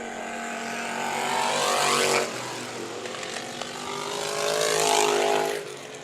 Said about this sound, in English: Hardtop heat race number 1 coming to a close here, the final corners.